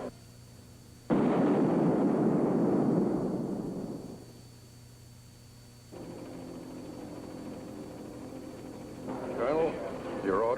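A detonation in a 1959 space-station sci-fi TV show booms and rumbles out over a few seconds. Faint background hum surrounds it, and a voice starts near the end.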